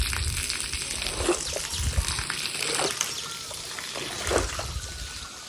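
Rainwater drains from a blocked rooftop pipe into a tank below, a steady trickling and splashing flow with irregular gushes, fairly close and continuous without speech.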